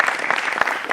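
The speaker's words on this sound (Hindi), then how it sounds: "जोरदार तालियों के साथ स्वागत करें।" A television studio audience claps to welcome a panel on a Hindi political debate show, a loud burst of dense applause with sharp individual claps standing out.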